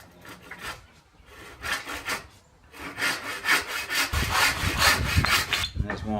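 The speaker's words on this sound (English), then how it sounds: "Let's use my very expensive El Cheapo Trojan tenon saw." A cheap Trojan tenon saw cuts through wood with steady back-and-forth rasping strokes, close and loud, settling into a quicker, heavier rhythm partway through.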